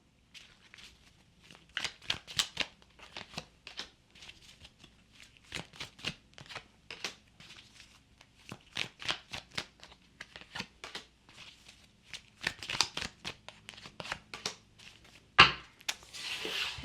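A deck of tarot cards shuffled by hand close up, in repeated bursts of crisp riffling and flapping with brief pauses, quiet and steady, ending with a sharper snap.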